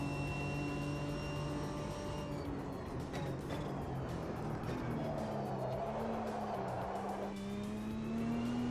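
Race car in the sim racing game Automobilista 2 (AMS2), its engine droning steadily and shifting in pitch while the tires squeal and scrub through a slide, close and continuous with no talking.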